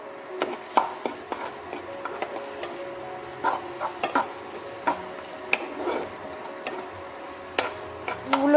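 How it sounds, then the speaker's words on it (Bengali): Eggs being scrambled in a frying pan: irregular spatula taps and scrapes against the pan over a faint, soft sizzle. "ডিমগুলোকে আমি এটা একটু ঝুরি করে নেব"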